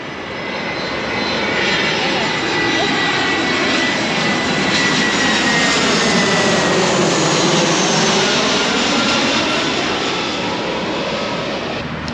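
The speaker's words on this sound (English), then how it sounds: "Oh, here comes another plane." A jet airliner passes low overhead near an airport, its engine roar swelling steadily with a sweeping whine and then holding loud for more than ten seconds.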